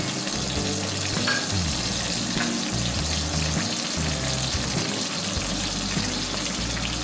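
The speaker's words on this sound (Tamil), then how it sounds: "இந்த பட்டை லவங்கம் இந்த கருவேப்பிலை எல்லாம் பொரிக்கிட்டோம்" Cinnamon, cloves and curry leaves sizzle steadily in hot oil, a continuous close crackle with no talking.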